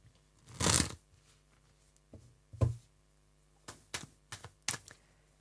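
Tarot cards are shuffled in a few quick bursts, a long riffle followed by several shorter taps and flicks close by in a quiet room.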